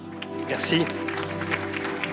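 Award ceremony audience applause for a trophy winner, a steady wash of many hands clapping in a hall, with a voice speaking briefly over it.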